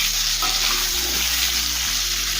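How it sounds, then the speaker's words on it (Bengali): Cut potatoes with a little salt and turmeric frying in hot oil, a steady loud sizzle with faint stirring scrapes throughout, no voices. "আলু লাল করে ভেজে নেব"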